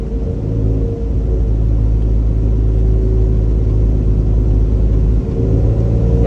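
Honda CRX with a single-cam engine and new coilovers cruising steadily, a loud continuous low engine drone and road rumble heard from inside the car with no talk.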